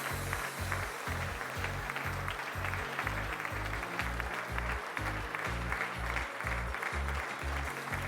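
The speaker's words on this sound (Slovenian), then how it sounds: "Ta aplavz pove ogromno" Applause from the audience at a sports awards ceremony, a fairly distant, even patter of many hands beneath a pulsing low rhythmic music bed, with no talk over it.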